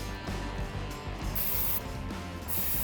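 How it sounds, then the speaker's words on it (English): Mech Pro rattle gun (impact wrench) working on stub axle bolts of a Mustang during suspension work, a rapid mechanical ratcheting hammer with hissing bursts, close and fairly quiet. "we've got a Mech Pro rattle gun."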